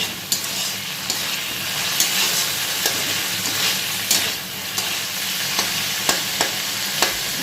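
Spice paste for a fish curry sautéed in a pan, with a steady sizzle broken by repeated sharp scraping and clacking strokes of a spoon against the pan, close and fairly loud.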